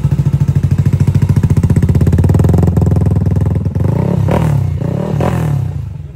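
A 220cc motorcycle engine with a 5.6 crank and 66mm JBT block, running slightly rich, roars loud and close in a steady pulsing idle, then blips into short throttle revs toward the end.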